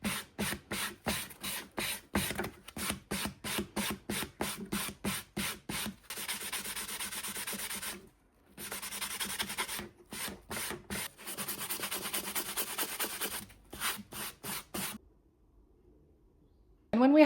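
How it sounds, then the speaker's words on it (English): Rhythmic rubbing strokes of a wet and dry sponge rounding and smoothing the edges of a turquoise bangle cuff bracelet, close and steady, with a few short pauses and quiet at the end. "we could go with wet and dry paper or wet and dry sponge, as I do now."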